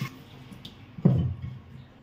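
Water from a tap splashes and drips off a clay pot being rinsed, a single louder close splash standing out from a quiet trickling background.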